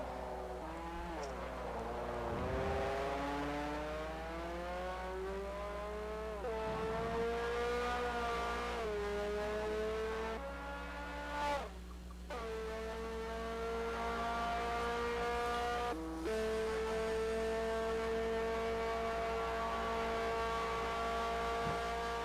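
Race car engine in Forza Motorsport on the Mulsanne straight at Le Mans, a loud sustained high whine climbing through gears with brief shifts and dips, steady and close throughout.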